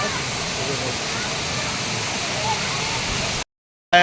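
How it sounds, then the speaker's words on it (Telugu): Mettaguda waterfall near Seethampeta roars in a dense, steady rush close by. Voices talk faintly underneath before the sound cuts out abruptly near the end. "ఇది మెట్టగూడ జలపాతం"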